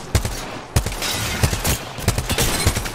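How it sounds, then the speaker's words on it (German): Rapid gunfire bursts in the video game Apex Legends, with sharp repeated shots in uneven clusters, loud and close, amid dense battle noise during a duo match. "einer sniped oben, auf dem Stein"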